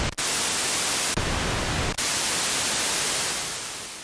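Dense, even hiss of pink noise from a Minimoog synthesizer's noise source during restoration, loud and steady with two short gaps, fading slightly toward the end.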